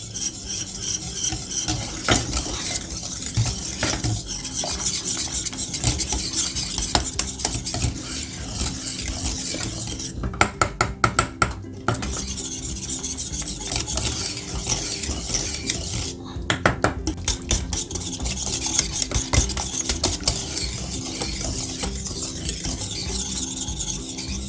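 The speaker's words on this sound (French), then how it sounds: "Et on va mélanger jusqu'à épaississement de notre caramel, de notre crème dessert." Caramel dessert cream with brown sugar being stirred in a pot: continuous scraping and rubbing of a utensil against the pot, steady rhythmic strokes with a few sharper clinks, close and fairly loud, no talk.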